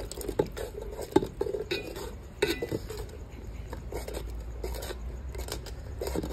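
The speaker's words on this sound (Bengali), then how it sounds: "না ঘাটলে করে দিয়ে আস্তে আস্তে নাড়াচাড়া করতে হবে।" A spoon scrapes and clinks against a pan while poppy seed paste is gently stirred, producing irregular close metallic taps and soft scraping over a low background hum, with no talking.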